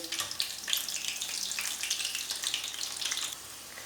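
Potato chips fry in a pan on one side before being turned, giving a steady, close crackling sizzle that runs without a break and thins slightly near the end.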